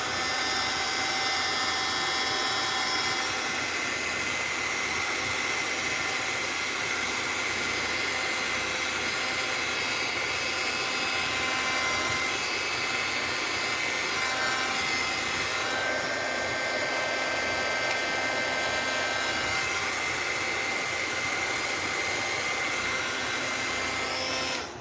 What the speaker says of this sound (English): I'm going to dry it so that my colors don't bleed. So this is going to make some noise, louder than my air conditioner.